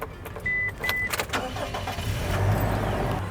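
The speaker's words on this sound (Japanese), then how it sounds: "一度エンジンかけてみます。" A camper van's gasoline engine is cranked and started close by, with clicks and a brief whine, then settles into a quiet, steady low idle.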